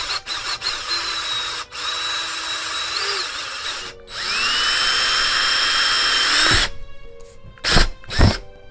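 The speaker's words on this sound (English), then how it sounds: "We're going to drill the holes anywhere that we would have to turn the jigsaw" Power drill boring holes in a workpiece for a homemade silhouette lamp, a loud steady whine running through several bursts with short pauses, followed by two brief revving spurts near the end.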